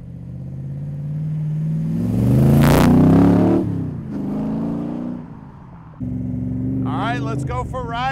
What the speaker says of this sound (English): Let's go for a ride in the Superformance Cobra.